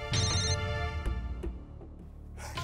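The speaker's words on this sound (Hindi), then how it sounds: "कौन है बार बार फोन कर रहा है?" A telephone rings with an electronic melodic ringtone, loud and close, for a couple of seconds before stopping.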